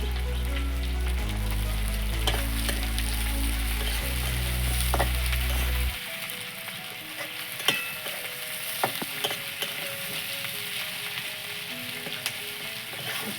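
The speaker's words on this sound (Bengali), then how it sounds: "রসুনটা একটু লাল লাল হয়ে গেছে, এর মধ্যে পেঁয়াজটা দিয়ে দিচ্ছি।" Onions are tipped into a pan where garlic is already frying to a reddish colour for a fish-head muri ghonto. A loud, steady sizzle runs for about six seconds, then settles into quieter crackling with scattered utensil clinks.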